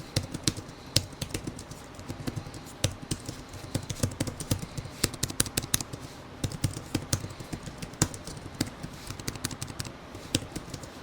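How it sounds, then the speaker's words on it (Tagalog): Steady, rapid typing on the detachable keyboard of a Tecno Megapad 2 tablet, a continuous run of close, crisp key taps with no talking. "typing and sound test na muna tayo"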